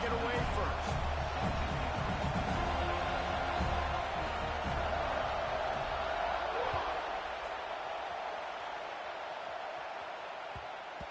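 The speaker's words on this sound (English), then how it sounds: "This crowd bringing an ear-splitting welcome to their visitors." A large stadium crowd roars continuously at a college football kickoff between Florida State and its hosts, a dense, loud wash of cheering that holds steady throughout and eases slightly toward the end, with a commentator talking over it.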